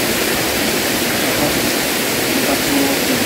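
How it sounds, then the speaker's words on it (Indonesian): Rawabidi waterfall near the Mandalawangi camping ground, a low cascade fed by Lake Rawabidi, pours in a steady, loud broadband rush of water with no breaks or voices over it. "Ini yang sebetulnya air terjun Rawabidi."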